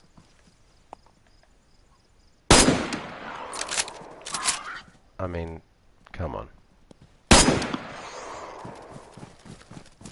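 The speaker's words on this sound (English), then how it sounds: "Tell me one shot from a tundra doesn't kill a pig." Tundra rifle shots fired at a pig in the DayZ video game: three loud, sharp bursts spaced several seconds apart, with a softer, crackling shot between them, and brief talk at the start.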